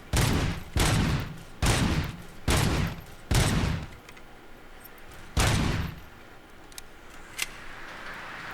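Pistol gunfire from a police service weapon in Robocop: Rogue City, five loud evenly spaced shots in quick succession, a pause, then one more shot, with faint clicks in between and no talking.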